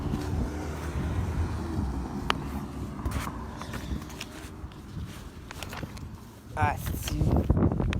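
Wind buffeting a microphone outdoors at a police station in Longueuil, rumbling gusts with scattered bumps, and someone speaks briefly in French near the end.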